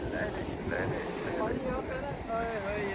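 Water waves lap around a boat in open water on a cold, windy day, a soft continuous wash and splash with wind buffeting the microphone and occasional voices in the background.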